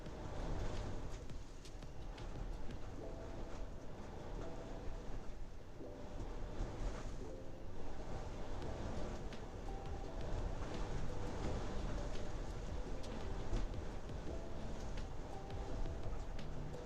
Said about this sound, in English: It is super windy here today.